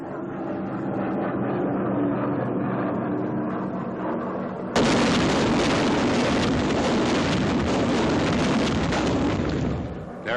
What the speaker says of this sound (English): Another drop of the jellied gasoline bombs.